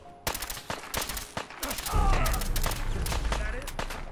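A harpoon gun fires in Fallout 4's Far Harbor add-on, with a string of sharp repeated shots and impacts over a steady loud background, while a voice talks beneath.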